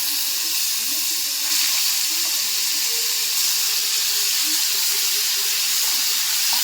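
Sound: onion paste frying in hot oil

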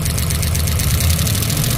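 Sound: 1967 Pontiac Tempest engine revving

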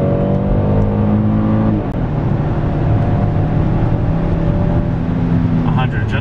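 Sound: 2019 Kia Sorento SUV accelerating hard in sport mode

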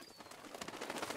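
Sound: birds flying off, from video game Breath of the Wild

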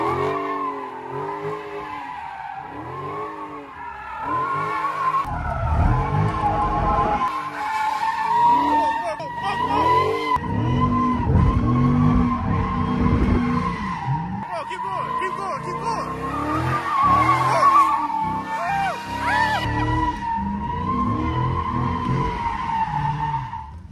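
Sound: Dodge Scat Pack or Hellcat sliding with tires skidding

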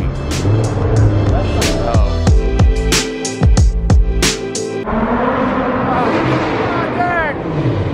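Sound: supercharged Lamborghini engine revving and downshifting

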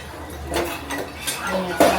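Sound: washing dishes, pots and pans

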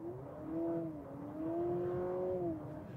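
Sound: new Honda Civic simulated engine sound and gear shift

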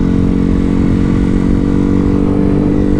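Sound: motorcycle riding on a group Sunday ride

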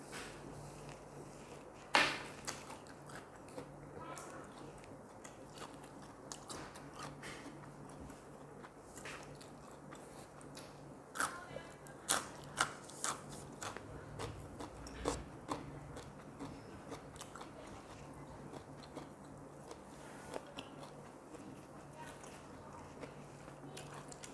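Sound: eating raw shallots, biting and chewing

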